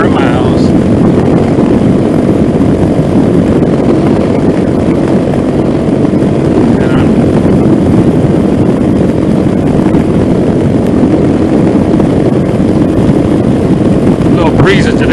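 Venom Ghost 250 motorcycle ridden at speed around 55 mph at half to three-quarter throttle, a steady loud broadband engine drone mixed with heavy wind rush throughout, with no breaks.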